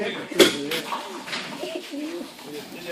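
Racing pigeons coo repeatedly in soft, rolling phrases at a shipping day for an old birds race in Macon, Georgia, close and steady over a busy outdoor background with faint voices.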